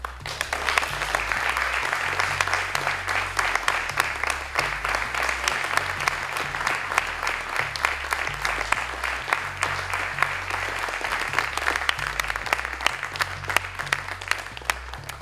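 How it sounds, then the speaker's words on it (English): Sustained round of applause from an audience as a university racing team's new car is unveiled, dense steady clapping throughout with a low musical bed underneath. "we'll give it a round of applause, please."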